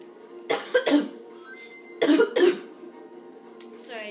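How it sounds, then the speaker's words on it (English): A person coughs in two close bursts of paired hacks, one early and one midway, close and fairly loud against a quiet background. "Sorry, I just have a cough."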